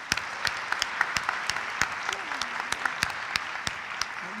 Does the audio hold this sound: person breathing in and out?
no